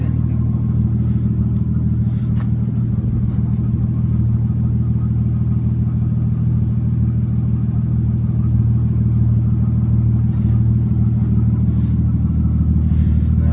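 A Nissan Skyline R33 GTST engine runs with a new exhaust, giving a loud, steady, deep rumbling drone that holds unbroken throughout, with no revving.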